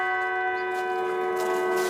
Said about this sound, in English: Bells toll for Anthony Heffernan.